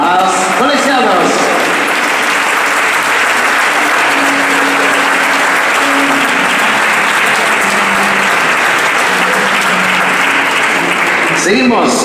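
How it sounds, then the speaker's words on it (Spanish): Loud applause for the referees at a Galician swimming federation gala, a dense, continuous wash of clapping throughout with a voice speaking over it at the start and end. "Fuerte aplauso a los colegiados."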